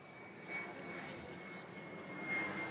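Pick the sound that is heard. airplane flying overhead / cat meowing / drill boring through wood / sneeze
airplane flying overhead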